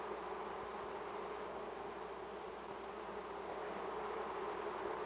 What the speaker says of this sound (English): Worker bees form chains to repair honeycomb.